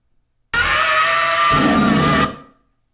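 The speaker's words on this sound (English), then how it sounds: "This is a scream that I didn't scream" A single long recorded scream that bursts in loud, holds raw and harsh for nearly two seconds, shifts lower partway through, then fades out, with no talk around it.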